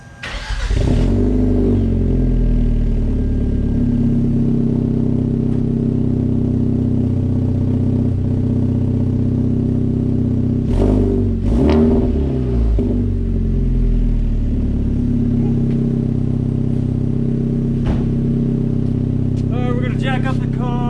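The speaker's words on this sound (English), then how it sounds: "let's fire this thing up, see what it sounds like. First start up, we're gonna take a listen" A Hyundai Genesis Coupe 2.0t fitted with an MXP exhaust cranks and fires up, then settles into a loud, steady idle with a couple of brief revs partway through. People talk over the engine now and then.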